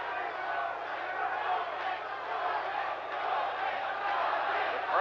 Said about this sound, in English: The crowd trying to cheer on their hometown hero.